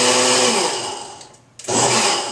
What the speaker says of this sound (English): So I'm going to go ahead and turn the blender just a couple times.